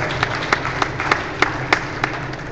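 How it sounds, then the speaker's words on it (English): An audience at a basketball clinic gives brief applause, a steady patter of clapping with several sharper claps standing out, filling the whole short stretch. "why don't you guys bring them home with a little applause?"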